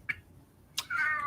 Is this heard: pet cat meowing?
yes